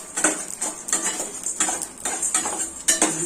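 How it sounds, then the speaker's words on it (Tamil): Cumin, fennel seeds and black pepper sizzle and crackle as they fry in oil in a pan, with bursts of spattering and metallic stirring scrapes in an uneven rhythm, close up with no talk. "இந்த சீரகம், சோம்பு, மிளகுலாம் அப்படி படப்படன்னு பொரிக்கிட்டு"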